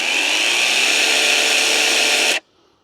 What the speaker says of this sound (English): Does stop quickly when you release the trigger, like all battery saws should.